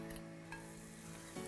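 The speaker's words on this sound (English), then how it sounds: "And again, you wanna hear that sizzle." Shrimp sizzling in a hot pan with butter, a close, steady crackling fry with faint hum and a light stir or clink near the end, brief and without speech.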